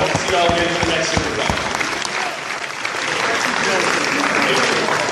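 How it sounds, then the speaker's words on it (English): Spectators applaud two grappling athletes, Gordon Ryan and Keenan Cornelius, at a no-time-limit match hosted by Grappling Industries; loud, sustained clapping fills a large space, with voices talking over it. "let's give both of our athletes an amazing round of applause"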